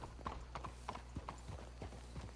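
Horse hooves clip-clop steadily in the video game Red Dead Redemption 2, a close, rhythmic walking gait of repeated hoof strikes over a constant low ambient rumble, with no clear talking.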